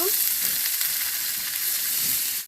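Pumpkin bhaji frying in a pan with salt, turmeric, chili and coriander powder, a loud, continuous close sizzle that holds steady and cuts off at the end.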